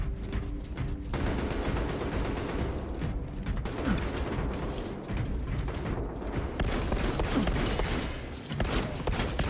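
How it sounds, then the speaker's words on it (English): Rapid carbine fire from a Space Marine 2 battle against the Tyranid horde, with continuous automatic bursts and mechanical clatter running dense and loud throughout, briefly easing and then resuming. "you see why I select the carbines? Just that high rate of fire"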